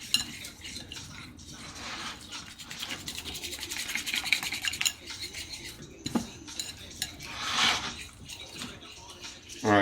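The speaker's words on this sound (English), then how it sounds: "Let's thin it out with some water." A utensil scrapes and clinks against a bowl as water is stirred into a thick chicken batter paste, with wet stirring and intermittent metallic taps near and moderately loud.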